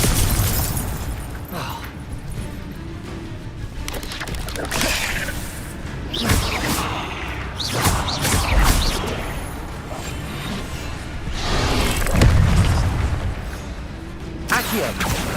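Fire spells and other magic cast during Hogwarts Legacy gameplay, heard as repeated whooshes and bursts over dense game sound, with loud surges around the middle and near the end.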